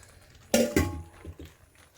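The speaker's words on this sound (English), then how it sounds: "At this point, I am going to add my capsicum and onion" Chopped capsicum and onion tossed into a simmering pan of paneer pyaja, a sharp clatter and sizzle of vegetables hitting the hot pan followed by a few softer clinks.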